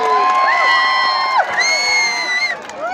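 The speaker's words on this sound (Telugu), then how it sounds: "మన తెలంగాణ ముద్దు బిడ్డ రేవంత్ రెడ్డి గారికి అందరూ ఒకసారి పెద్దగా చప్పట్లు కొట్టి ఆహ్వానం పలకాలి" A large outdoor crowd at a Telangana political rally for Revanth Reddy cheers loudly and continuously, with whoops, shrill whistles and shouting voices rising and falling in a dense roar.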